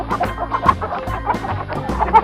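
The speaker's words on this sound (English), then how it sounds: "wow, chicken." A chicken clucks loudly and close by in a quick, uneven run of short, throaty clucks with brief gaps, heard alone with no talking.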